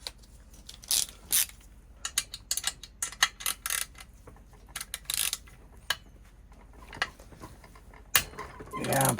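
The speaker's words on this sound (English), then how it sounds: "we're gonna need probably a 10mm socket here" A socket ratchet clicks in irregular bursts while removing the muffler from a Husky 395 XP chainsaw during a rebuild, close and fairly loud, with a louder metallic rattle near the end.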